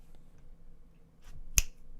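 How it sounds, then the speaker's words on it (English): A single sharp finger snap sounds close and clear in a quiet room, preceded by faint soft rustling. "Snap your fingers"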